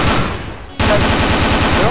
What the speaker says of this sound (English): I can't hear over my own gunshots.